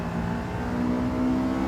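A Honda S2000's high-revving engine holds a loud, steady drone in Gran Turismo 7, its pitch climbing slightly and evenly with no pause.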